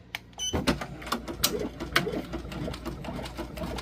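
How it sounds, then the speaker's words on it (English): A sewing machine runs steadily while stitching a second row on a fabric sublimation patch, its rapid mechanical chatter loud and close and continuing throughout after a brief pause at the start. "I'm gonna go ahead and do the second row of stitching"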